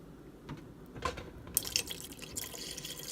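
Water poured little by little into a pot of butter beans being prepared with hot dogs: soft drips and splashes build into a brief, trickling pour, close and moderately quiet, with no talking.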